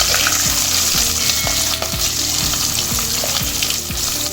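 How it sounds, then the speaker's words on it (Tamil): Chopped onions with green chillies and curry leaves fry loudly in hot oil for dry fish thokku. A constant sizzle runs underneath as a spatula scrapes the pan in a regular rhythm about twice a second, close by and without talk. "நம்ம கட் பண்ணி வச்சுருந்த வெங்காயத்தை அதில் சேர்த்துக்கலாம்."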